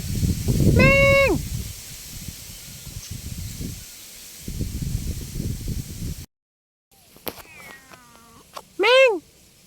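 An abandoned street cat meows loudly, with a few clear meows spread through the clip: one early and one louder near the end, separated by rustling and outdoor street noise.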